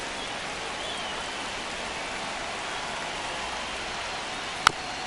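Steady rain pours down at a Brewers–Yankees baseball game, a dense even hiss throughout, with one sharp click near the end.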